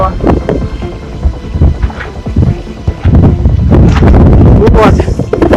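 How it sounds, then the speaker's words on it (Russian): Gusty thunderstorm wind blasts against a microphone in loud, uneven surges, with a low rumbling undertone and brief spoken bursts mixed in. "Тут ветер, ураганы."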